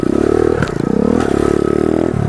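A pit bike rides over dirt trail jumps, its engine revving hard and loud up close with rhythmic pulsing and pitch dips as the bike lands and clatters over the ground.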